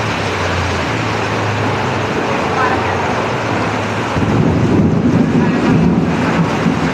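Strong wind in a rainstorm buffets the microphone in a steady, roaring rush, growing rougher toward the end; no distinct rain patter stands out.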